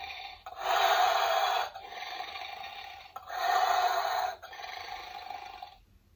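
An Adventure Force Roaring Rex toy dinosaur gives electronic breathing and growling sounds, alternating louder rasping inhales and softer exhales in a steady two-part rhythm, close and alone.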